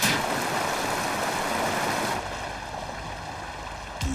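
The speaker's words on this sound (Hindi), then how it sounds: "अब मैं पानी छोड़ता हूँ।" Water is let out in a rushing, surf-like wash in an Oggy and the Cockroaches cartoon, loud at first and then dropping to a softer flow, with a short sharp sound near the end.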